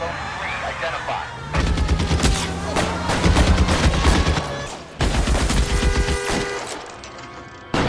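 Heavy gunfire in the 1940s Los Angeles crime game L.A. Noire, with loud overlapping bursts and rapid volleys from several guns over about seven seconds, broken by a brief pause and a sharp restart.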